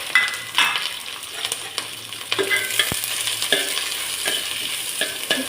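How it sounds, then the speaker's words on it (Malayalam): Shallots, green chilli and ginger sauté in a pan after mustard seeds have popped, giving a steady close sizzle and fry broken by repeated scraping stirs of a utensil against the pan. "ഇത് നന്നായിട്ടൊന്ന് വഴറ്റിയെടുക്കണം."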